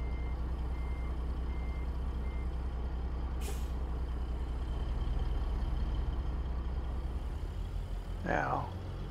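Ford LTL 9800 truck with a dump trailer in American Truck Simulator idling with a low steady engine drone, a short sharp air-brake hiss midway, and a rising whine near the end.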